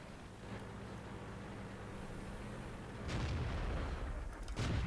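A tank cannon fires in the World of Tanks video game: a roaring, noisy blast swells partway through over steady background rumble, and a second sharp burst follows near the end, with no talk.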